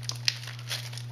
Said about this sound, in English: This little plastic bag taped onto the power cord.